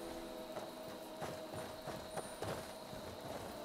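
Horse hooves clip-clop in the video game Skyrim, a faint, steady rhythm of hoofbeats heard alone over a quiet background.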